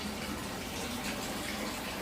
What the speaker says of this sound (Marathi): पाण्याचं चालू करून देतो.